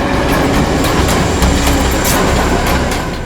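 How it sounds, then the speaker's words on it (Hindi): A train rumbles past close and loud, a continuous roar with rhythmic rattling of wheels over the tracks. "ये कौन सी ट्रेन थी? लोकल ट्रेन या मेल गाड़ी की आवाज?"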